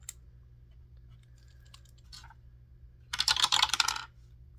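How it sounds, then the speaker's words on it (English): Six-sided dice tumbling down a dice tower, a short burst of rapid clattering knocks near the end after a few faint taps, close and fairly loud. "So we're going to roll a 6-sided dice and see what numbers we get for the month of June."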